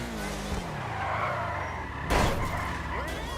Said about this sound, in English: let's try using my handbrake in the next turn